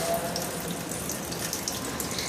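Water draining off soaked rice, a continuous close splashing and trickling flow, steady and moderately loud for the whole stretch with no voices.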